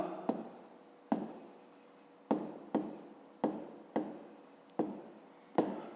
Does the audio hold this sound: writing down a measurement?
yes